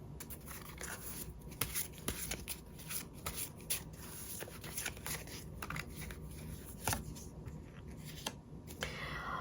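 Tarot cards shuffled by hand in a continuous stretch of papery riffling and soft slaps, close and fairly quiet, with no talking over it.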